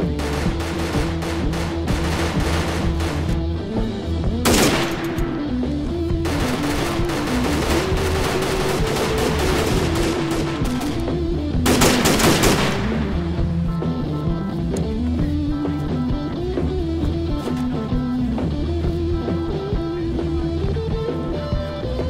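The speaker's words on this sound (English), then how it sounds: "Taking fire, get down!" Gunfire in the Arma 3 video game: bursts of shots and a couple of sharp loud cracks ring out over a continuous engine-like rumble, lasting about twenty seconds.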